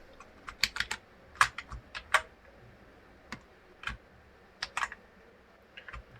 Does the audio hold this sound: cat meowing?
no